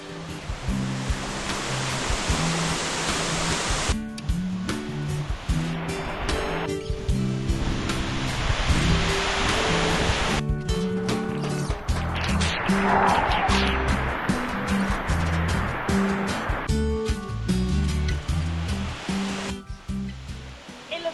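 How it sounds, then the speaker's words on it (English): A waterfall in East Java roars with a steady, dense rush of falling water, close and loud throughout, its texture shifting slightly as the listening position changes. "the most beautiful waterfall we've both ever seen"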